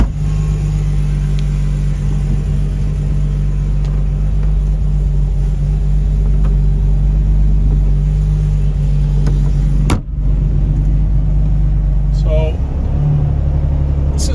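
A 1955 Mercedes-Benz 300SL Gullwing cruises along with a steady low engine rumble and road noise, interrupted by a brief sharp knock near the end.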